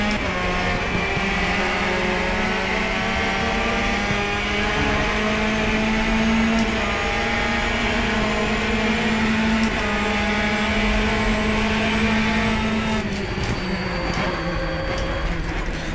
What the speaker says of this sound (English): The engine sounds are still not the best, even with the mod. They sound a bit whiny to me.